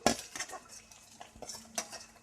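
Sliced onions dropped into a pan for chilli chicken and stirred with a utensil, giving a few separate clinks and scrapes of metal against the pan, close and fairly quiet, with no talking.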